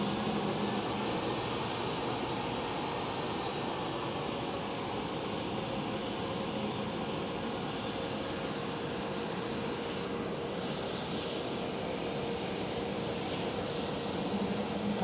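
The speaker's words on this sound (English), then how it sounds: "There goes LOT Police Airlines E190 E2." A LOT Polish Airlines Embraer E190-E2 jet passes at Amsterdam Schiphol, a steady, fairly faint broadband engine roar that holds level throughout with no voices.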